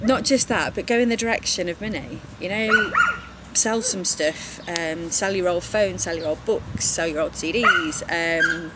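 A female dog barks and yips repeatedly indoors in short irregular bursts, loud and close, mixed in with someone talking steadily over her.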